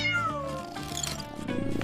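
A cat meows in a drawn-out, sliding cry lasting nearly two seconds, close and clear over a faint musical background.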